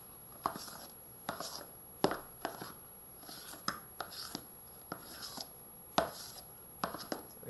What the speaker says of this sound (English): So we're just going to fold this in with our spoon.